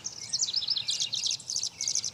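A tree swallow on a farm gives rapid, high twittering chirps in quick bursts, close and clear with nothing else around.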